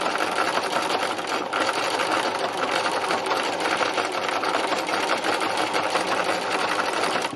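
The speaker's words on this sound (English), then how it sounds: "see what happens" A sewing machine doing free machine embroidery runs in a fast, continuous stitching rattle, loud and close, holding steady the whole time with no talking.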